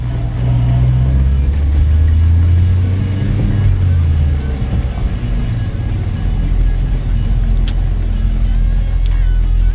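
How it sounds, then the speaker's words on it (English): A Honda car rolls slowly around a parking lot, its engine holding a steady low drone from inside the cabin, with a few faint clicks. "I'm just gonna kind of drive around like low speed around this parking lot"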